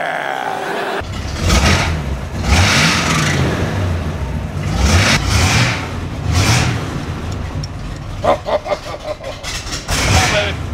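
A 1971 Chevy truck engine cranks and catches, then revs in repeated surges, close and loud, with short bursts of throttle toward the end.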